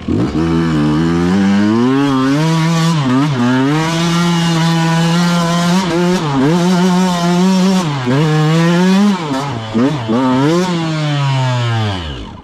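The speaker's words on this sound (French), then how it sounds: "je voulais essayer de monter en deux, ça patine" An enduro motorcycle in second gear revs hard and continuously on a steep climb, its rear wheel spinning without grip, the loud engine note rising and dipping repeatedly throughout.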